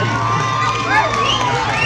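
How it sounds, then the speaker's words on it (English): Crowd at a school annual day celebration, loud continuous cheering with children shouting and high excited voices close by. "Huge applause."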